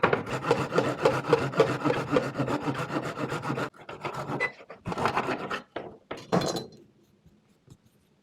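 Close, rapid back-and-forth sawing through wooden baseboard trim at an angle, a rasping stroke rhythm that stops, then a few slower strokes and faint clicks.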